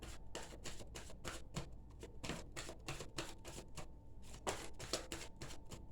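A deck of oracle cards is shuffled close by in a rapid, steady run of crisp riffling flicks that continues without a break and with no talking.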